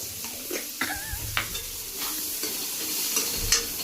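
Homemade chow mein noodles fry in a pan, making a steady close sizzle under a few scraping stirs and clinks, with a faint voice-like sound briefly audible.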